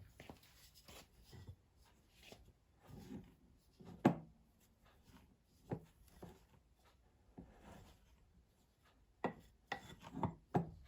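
Flour, powdered milk and salt stirred together in a bowl for Ghanaian coated peanuts, faint irregular scraping and rubbing strokes with a few sharper knocks, close and quiet with no voices.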